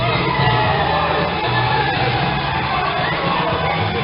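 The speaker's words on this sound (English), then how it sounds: "And listen to that crowd." A live wrestling event crowd cheers, yells and whoops loudly and continuously, a dense roar of many voices filling the hall without a break.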